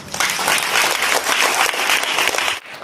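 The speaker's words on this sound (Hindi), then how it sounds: "ताली बजाएंगे।" Audience applause fills a church service hall, a dense, loud wash of clapping that holds steady for nearly three seconds before dipping briefly and picking back up.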